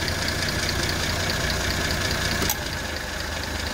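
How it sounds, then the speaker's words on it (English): Steady idle of a 6-volt car engine running with modern air conditioning switched on, a continuous close low rumble with a hiss on top and a brief click midway, heard alone. "That's with the AC on,"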